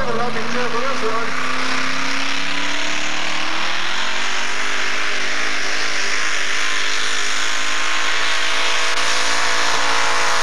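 Modified four-wheel-drive Ford pulling truck at a 1991 NTPA Grand National truck pull in Macon, Missouri, its engine roaring loud and near, pitch sweeping up then holding at a sustained scream, with an announcer talking over it.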